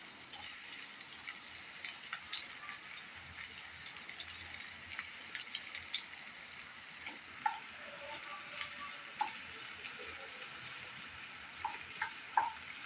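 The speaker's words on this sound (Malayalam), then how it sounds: "രണ്ട് വലിയ സവോളയാണ് നമ്മൾ എടുത്തിരിക്കുന്നത് അത് സ്ലൈസ് ചെയ്തതാണ് ഇട്ട് കൊടുക്കുന്നത്" Two large sliced onions fry in a pan for paneer and green pea curry, a steady close sizzle and hiss with occasional crackles and clinks of stirring, and nobody speaks.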